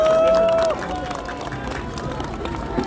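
A crowd at an outdoor Seoul election rally applauds a student speaker, a dense, steady wash of clapping that holds loud throughout, with an amplified voice carrying over it.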